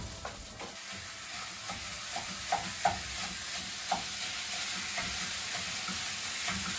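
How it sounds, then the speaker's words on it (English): A pound of ground beef sizzles and fries in a pan, a steady hiss with intermittent stirring scrapes and soft pops spaced across the clip. "now we're gonna add a pound of ground beef to our pan"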